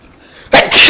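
A single loud, sharp sneeze bursts out after a short quiet pause, followed by a breathy trailing exhale, close to the listener with no talking over it.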